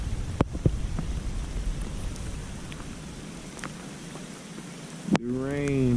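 Rain falling on a creek on a cold day, a steady hiss of drops with a few sharper taps, ending in a bird's rising call.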